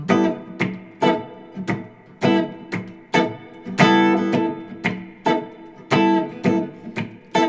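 Guitar strums short, punchy chords in a steady swinging rhythm, each chord stabbed and cut off, moving through a blues progression.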